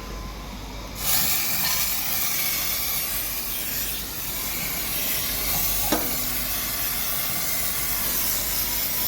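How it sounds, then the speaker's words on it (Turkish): A steady, close aerosol cleaning spray hisses continuously for several seconds on a car engine, with a brief clunk partway through and no talking. "Bu sprey çok güzel."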